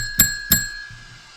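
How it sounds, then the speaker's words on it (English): A bell is struck twice in quick succession, each bright ding close and clear, with a steady ringing tone hanging on between and after the strikes. "Bell ring."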